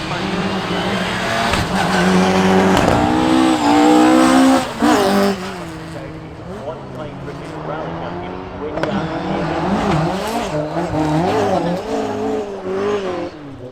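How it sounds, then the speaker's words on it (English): A high-revving rally car engine screams through rising and falling gear changes at Knockhill's main-straight chicane, loud and close, with tyre squeal and a commentator talking over it. "what a noise from that engine"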